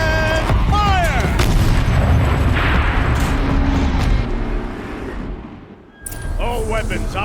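A tank turret fires in the video game Horizon Zero Dawn, a loud, sustained booming blast with heavy rumble that fades and is followed by another burst, with a voice briefly heard around it.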